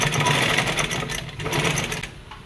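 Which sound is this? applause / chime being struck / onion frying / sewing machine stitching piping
sewing machine stitching piping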